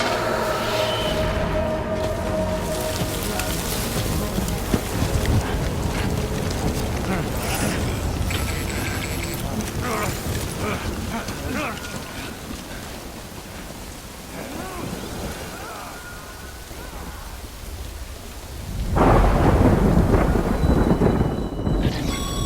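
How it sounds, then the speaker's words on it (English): Rain pours and thunder rumbles in the video game Death Stranding, a dense continuous wash of rainfall with deep rolling thunder, building to a louder crash near the end, with some faint talk underneath. "Good thing it was raining."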